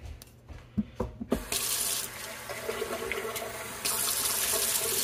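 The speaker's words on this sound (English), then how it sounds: "I'm going to drain them, so I'm just going to kind of pour them" Liquid from canned potatoes pours into a kitchen sink, opening with a few sharp clinks before a steady splashing stream that swells louder near the end, close and with no talk.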